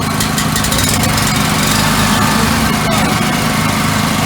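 A small steam engine runs steadily and loudly throughout, a constant droning rumble with a buzzing high edge, close by.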